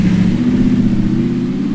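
An Audi R8 engine drones loud and close as the car pulls away, a steady low-pitched rumble throughout the short stretch with no speech over it.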